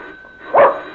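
Dog gives a single short bark, close and moderately loud, after a quiet stretch of room hum.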